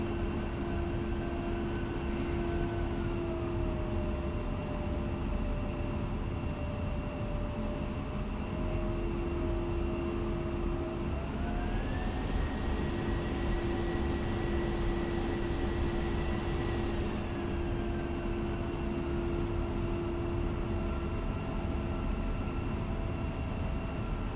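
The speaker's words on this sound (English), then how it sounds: "We're taxiing to runway 21." An A-10 jet taxiing toward runway 21, heard as a constant loud engine whine and rush from close by, with steady tonal hums that slowly shift pitch over a long stretch.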